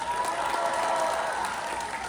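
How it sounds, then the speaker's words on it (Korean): Audience applause at a university festival after a student's stage performance, a short, dense burst of steady clapping with a hint of crowd noise. "다시 한번 진짜 최고의 무대를 보여주신 학생분께 큰 박수가 필요합니다"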